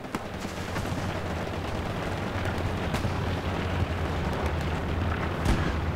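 Dense, continuous gunfire and distant explosions in the World War II shooter Hell Let Loose, a steady roar of rifle and machine-gun shots with occasional sharper cracks close by, no talking.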